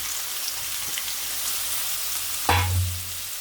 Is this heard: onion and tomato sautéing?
yes